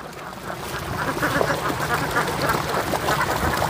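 Ducks quack over and over in a rice field, a dense flock chattering close by at steady volume with overlapping calls and no speech.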